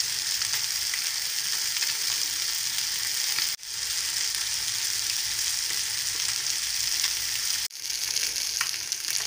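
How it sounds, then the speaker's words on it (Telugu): Fish pieces shallow-frying in a little oil, a strong, continuous close-up sizzle that breaks off abruptly twice as the pieces are turned, then resumes at full strength. "నేను అటు ఇటు తిప్పుకుంటా వేయించుకోవాలండి"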